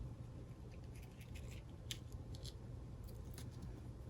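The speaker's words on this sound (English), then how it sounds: "Just take my scissors." Scissors snip through paper or cardstock while trimming a birthday cake die-cut piece for a card, a few short crisp cuts spaced irregularly over a low steady background hum, fairly quiet and close.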